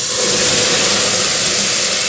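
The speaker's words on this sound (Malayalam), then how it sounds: "നമുക്കിനി തിളപ്പിച്ച വെള്ളം ഒഴിക്കാം" Boiled water hits a hot pan of spices for mutton biryani, producing a loud, continuous, close-up steam hiss that barely changes over two seconds.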